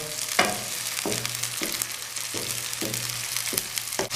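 Boiled carrots and peas sizzle in a pan on high heat for restaurant-style Chinese fried rice, a loud, steady hiss broken by regular stirring scrapes about every half second.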